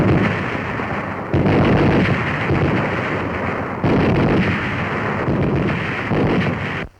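A pair of belt-fed, recoil-operated, air-cooled M1919A4 machine guns fire in loud, sustained rolling bursts for about seven seconds, with a brief break between bursts roughly every couple of seconds.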